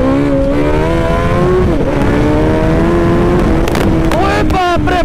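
A Suzuki Hayabusa motorcycle under a hard power test revs loud and close, its engine note climbing steadily through the gears with brief shifts and renewed surges.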